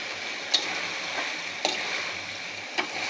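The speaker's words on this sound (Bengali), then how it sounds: "এবার দিয়ে দেব চিংড়ি মাছ" Shrimp go into a pan of sautéed vegetables for a Bengali prawn curry, giving a steady close sizzle and hiss of frying with a few sharp ticks of stirring spaced through it, no talk.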